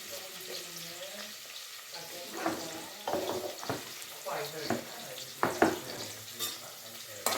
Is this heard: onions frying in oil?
yes